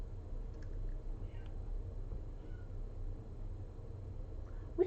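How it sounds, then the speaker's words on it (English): A house cat meows faintly from across a quiet room, short soft cries over a low background hum, with a sharper brief call near the end. "I hear a cat meowing."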